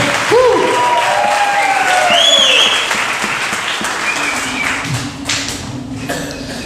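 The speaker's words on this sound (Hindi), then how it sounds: "एक बार जोर से ताली बजाकर प्रभु को जोर से थोड़ा चिल्लाकर।" A congregation at a prayer gathering claps loudly and cheers, the dense applause mixed with shouts and whooping voices early on, then thinning out and fading toward the end as scattered claps and murmurs remain.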